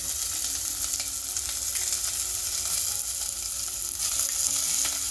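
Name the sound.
onions and garlic frying in hot oil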